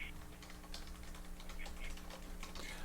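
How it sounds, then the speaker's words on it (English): Rapid, irregular keystrokes on a computer keyboard clatter steadily for about three seconds, fairly close and moderately loud over a constant low electrical hum, with no talking. "I am typing as we speak."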